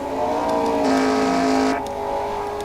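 Race car engines droning loudly in a sustained tonal roar as cars head into the pits during a caution in a CARS Lightning Cup Series race, with one engine swelling and then easing off.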